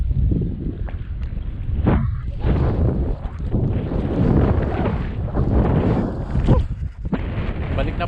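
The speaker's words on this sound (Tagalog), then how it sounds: "At napakalakas na po ng hangin" Strong wind blowing at sea on a fishing trip, roaring and buffeting the microphone in a continuous low rumble that swells with gusts.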